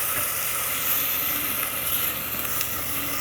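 Onions and hot peppers sauté in a hot pan for a three-bean chili, giving a steady, dense sizzle close by with no talk.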